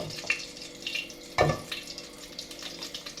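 Cooking oil heating in a frying pan, ready for chicken livers, giving a soft, steady sizzle with faint crackles and one brief louder burst near the middle.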